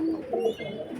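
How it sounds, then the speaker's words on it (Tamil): A pigeon of an old bloodline coos softly close by, a brief low throaty call alone in a quiet space. "இதெல்லாம் ஒரு ஒரிஜினல் புறாக்கள்."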